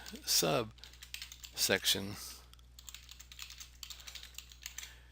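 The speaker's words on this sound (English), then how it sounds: "we basically are typing data into a report" Quick, light computer keyboard tapping in an uneven rhythm as data is typed into a report, heard close up, with a few short bursts of clacking in between the steady keystrokes.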